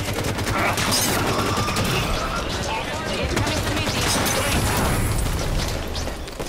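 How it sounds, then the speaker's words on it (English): Chaotic Halo 5 Warzone firefight where an enemy grenade goes off amid rattling automatic gunfire and mechanical clatter, loud and dense throughout, with a voice talking over the action. "That was an enemy grenade."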